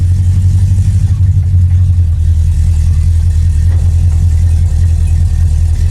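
An AMX car with a carburetor mod runs at Joe's Speedway, its engine a loud, steady low roar heard up close from inside the car, droning without pause.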